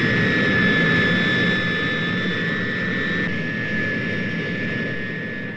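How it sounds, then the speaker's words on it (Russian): A Soviet jet laboratory aircraft takes off behind the bomb carrier plane at the RDS-220 Tsar Bomba hydrogen bomb test, a loud continuous engine roar with a steady high turbine whine that slowly fades as it climbs away. "Следом за носителем в воздух поднимается самолет-лаборатория."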